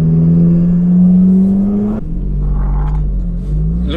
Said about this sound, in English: You're getting all the sound, the sucking noises, the turbo noises.